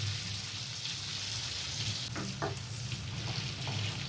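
Garlic fries in melted butter until light golden, a soft continuous sizzle and crackle with occasional stirring clicks near the pan, fairly quiet, no voices.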